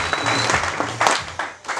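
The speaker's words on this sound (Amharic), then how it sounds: "በደንብ አጨብጭቡላት" Audience applause at a church worship service, a steady patter of clapping that swells and fades in waves for under two seconds.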